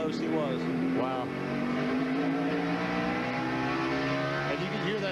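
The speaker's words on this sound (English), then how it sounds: "you can hear that engine just screaming as it accelerates down the straightaway" A race car engine at the 2001 Old Dominion 500 on a very tight track screams steadily as it accelerates down the straightaway, loud and continuous with rising and falling pitch, under a commentator talking.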